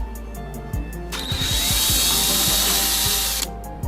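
A power tool backs out 10mm headlight assembly bolts on a 2007-2014 GMC Yukon, a loud, close, steady whirring burst of about two seconds framed by quieter clicks and ratcheting taps.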